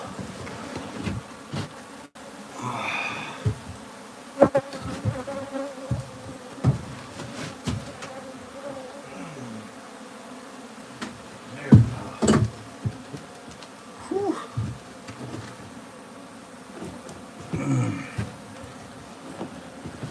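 A swarm of wild honey bees buzzes steadily around an open beehive as it is moved into a new home, a dense close drone broken by scattered louder passes and handling knocks.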